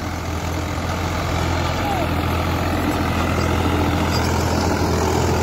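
A Swaraj 744 XT tractor with an HLM gearbox, set up for rotavator work, runs with a steady, loud engine drone that continues unbroken throughout, with no voices heard over it.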